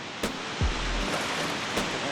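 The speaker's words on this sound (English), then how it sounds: "right over here at the waterfall." A waterfall in The Sims 4's Sulani setting makes a steady, rushing wash of water noise that stays even throughout. A couple of soft thumps sit on top, with no voices.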